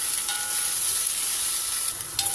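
Capsicum sautés in a kadai for chutney with a steady, even sizzle and faint stirring, close by and uninterrupted, with no voices.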